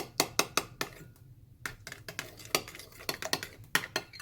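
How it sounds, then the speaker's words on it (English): A utensil clicks and scrapes against a bowl while egg, Dijon mustard and mayonnaise are blended together, in irregular sharp taps with a brief pause partway through, close and fairly quiet, no voices. "Now we'll just blend those together well."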